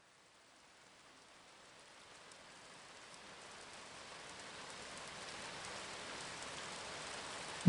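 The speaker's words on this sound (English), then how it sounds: "The rain is falling relentlessly on the town of Sheridan." Heavy rain pours steadily onto a town with cobbled streets and a historic market square, a dense, even hiss that slowly swells louder across the stretch with no voices.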